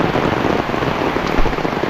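Heavy rain pours down steadily, a dense, loud hiss of drops beating on surfaces with no break, near and continuous throughout.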